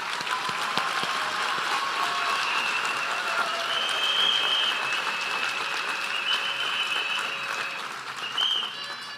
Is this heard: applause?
yes